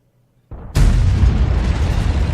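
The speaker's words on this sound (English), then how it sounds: "that shot was fired on estimation" A loud, close artillery shot from an AMX 13 F3 AM in a tank video game: a quiet lead-in, a short mechanical thump, then a massive booming blast that rumbles on with a dense roar.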